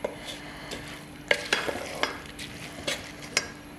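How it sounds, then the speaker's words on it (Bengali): Rice sautéed in a pan with spices for khichuri gives a low, continuous sizzle broken by repeated scraping and clacking strokes of a spatula, close and moderately loud with no one talking. "এখন আমি চালটাকে কষাবো"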